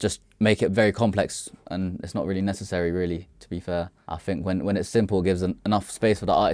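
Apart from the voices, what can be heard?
No everyday noises stand out.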